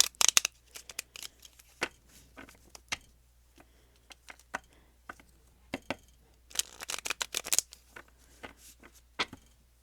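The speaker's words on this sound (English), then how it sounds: "I'm going to shuffle." Playing cards are shuffled by hand nearby, giving quiet, irregular crisp flicks and papery snaps, with a denser riffling burst in the middle.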